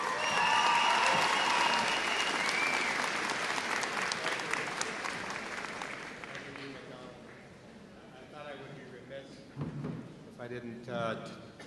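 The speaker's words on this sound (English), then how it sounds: "I hope you give them a lot of big applause as they go through." Sustained audience applause at a 2011 university convocation morning ceremony honoring MBA graduates, loud and dense at first, then thinning out as a voice begins speaking over the fading claps.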